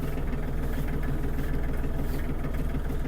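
A Kubota GL-29 Japanese compact tractor engine idles while warming up, with a steady, even rumble and low vibration throughout, and no other sounds.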